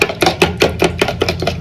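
Two eggs whisked briskly in a bowl for a Maggi bonda snack, a steady run of about eight sharp, evenly spaced taps and clicks, close and alone.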